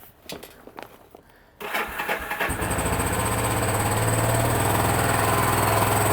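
A Yamaha SR250 motorcycle engine cranks over, catches after a few moments and settles into a steady, loud single-cylinder idle close by.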